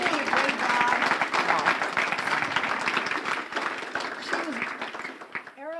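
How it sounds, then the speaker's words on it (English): An audience at an alumni reunion gives sustained applause, dense clapping with cheering voices mixed in, tapering off before someone starts speaking. "should we give her a round of applause?"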